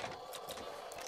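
A weapon being reloaded in Apex Legends, played as Gibraltar in season 12: a few faint, quick mechanical clicks and clacks over a quiet background.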